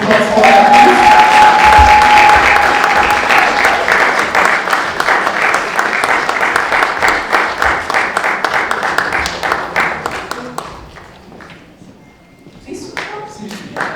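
A gala audience at the Women of Valour event in Paris applauds a guest: loud, dense clapping from a large crowd, holding steady at first, then thinning and fading out before a few last claps.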